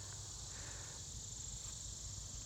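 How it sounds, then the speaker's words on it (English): Southern periodical cicadas (Magicicada) in a summer chorus, a steady, dense high-pitched buzzing drone that holds unbroken throughout, faint and distant, with no voices. "That's the sweet summer song of the cicada."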